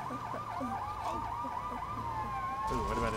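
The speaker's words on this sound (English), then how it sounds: "Oh no, I hear the police. They're coming for me." Police siren wailing in the Lego City Undercover video game, a rising and falling electronic wail repeating steadily for a few seconds, fairly loud, then settling into a steady tone as other game sounds join at the end.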